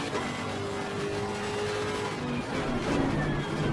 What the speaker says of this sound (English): The sound of the engines in this car, in this game, is just amazing.